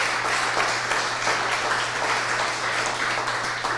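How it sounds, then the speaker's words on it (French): Steady applause from an audience at a press conference for a relay race, continuous dense clapping with a low steady hum beneath and no talking. "je pense que ça mérite une bonne main d'applaudissements pour nos bénévoles et M."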